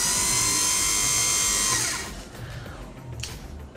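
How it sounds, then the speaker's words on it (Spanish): An automotive starter motor, removed from the engine and run on its own, spins with a loud high-pitched electric whine, holds steady for about two seconds, then cuts off and dies away into quieter clicks and handling noise. "podemos hacer funcionar al motor de arranque directamente"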